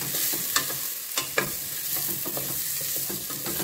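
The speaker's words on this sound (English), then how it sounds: "You're going to stir that around again just to get everything kind of coated." Potatoes and pasta shells being stirred in a pot for shell and potato soup, a steady scraping, sizzling churn with a couple of sharper knocks of the spoon, close and moderately loud with no talking.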